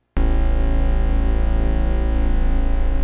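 A thick, buzzing bass tone from a Korg Minilogue synth with added sub, one continuous loud sustained note with a slight wobbling chorus-like movement, heard alone.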